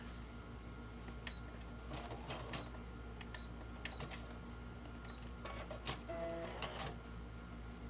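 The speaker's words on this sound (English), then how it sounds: "So let's sew that down." A sewing machine stitching paper pieces onto a junk journal page, quiet intermittent bursts of rapid mechanical stitching over a low steady hum, faint and close.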